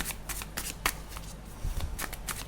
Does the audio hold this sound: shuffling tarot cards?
yes